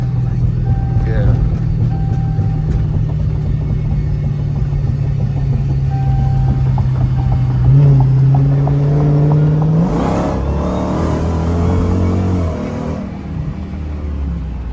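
A Dodge Hellcat V8 with catless mid pipes rumbles at a steady idle, then revs up sharply and settles back, loud and close, with people talking over it.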